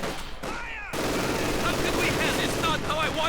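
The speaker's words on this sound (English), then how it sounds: "MG42 firing away immediately, dropping half the squad" MG42 machine gun fire in a Company of Heroes 2 match, a dense sustained burst of rapid shots mixed with battlefield noise, starting faintly then growing louder and continuous after a brief lull.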